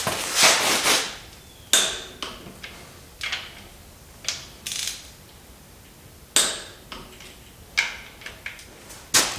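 Rod bolts on an engine connecting rod are drawn up with a torque wrench during a short-block build, giving scattered sharp metallic clicks and clunks with quiet gaps between them, close and fairly crisp.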